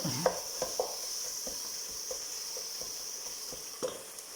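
Ingredients frying in a pan for biryani give a steady faint sizzle, with scattered soft clinks and scrapes of stirring throughout.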